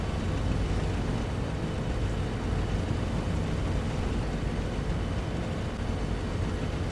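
B-17G bomber engine running in Flight Simulator X, a steady dense droning rumble with broadband roar, continuous and loud throughout without any voices.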